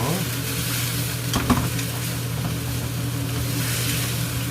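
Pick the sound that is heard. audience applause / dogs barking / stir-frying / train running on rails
stir-frying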